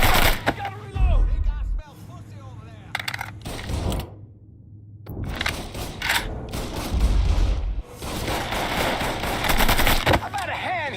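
Gunfire in the Mafia 3 video game: bursts of sharp, loud shots and rapid automatic fire, broken by a short quiet gap, with game voices talking between and over the shooting.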